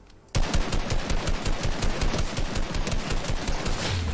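Rapid automatic gunfire in the Fortnite battle royale game, a sharp burst that starts abruptly and rattles on in a fast, even rhythm of loud, close shots, with no talking.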